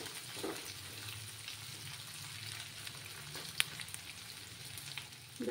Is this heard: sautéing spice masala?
yes